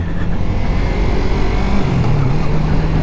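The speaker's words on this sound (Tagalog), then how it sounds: "wow nice Ferrari Stig" A Ferrari passes on the road, a loud continuous engine drone heard from inside a moving vehicle, with the pitch rising and shifting as it goes by.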